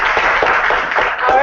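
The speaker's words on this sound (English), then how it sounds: "We can just give them a quick round of applause." An audience at an international student alumni panel gives a brief, loud burst of steady clapping that fills the room for a moment.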